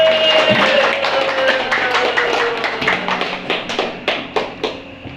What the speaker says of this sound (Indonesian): Tepuk tangan buat Asep.